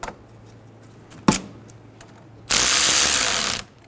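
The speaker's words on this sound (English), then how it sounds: "Snug the bolt down." A ratchet snugging down a bolt on a car battery terminal on a 2011-2014 Hyundai Sonata: a sharp click, then a quick burst of close ratcheting clicks lasting about a second, with no talk.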